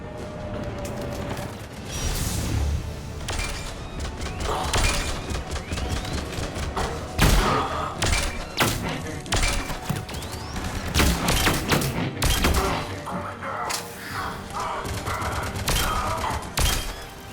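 Gunfire from the player's gun in Mass Effect 3: repeated loud, punchy shots and bursts with mechanical clanks and thuds, spread across the whole stretch of battle noise.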